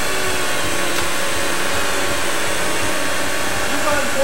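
Simulated RC ducted fan model aircraft in the RealFlight G2 simulator game, giving a steady, loud whooshing fan whine that holds unbroken throughout.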